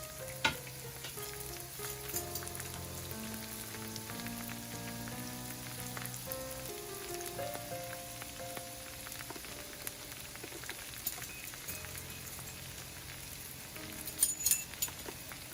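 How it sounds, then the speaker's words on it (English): Four to five garlic cloves sizzle in a hot pan with a steady frying crackle, laid under continuous melodic background music, with a few brighter spits near the end. "Okay, so I'm adding my garlic. It's about 4 to 5 cloves."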